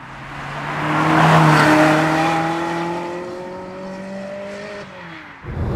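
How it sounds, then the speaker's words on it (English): A high-mileage Ferrari 360 V8 on its standard exhaust rises in pitch as it accelerates, swelling to a loud peak before easing off and settling, with a faint squeal near the end. "With the standard exhaust, it doesn't sound anywhere near as musical as that car can"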